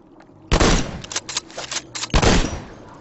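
Video game weapon shots in Worms Clan Wars, two loud broadband blasts about a second and a half apart with a burst of smaller crackling impacts between them, close and with no talking.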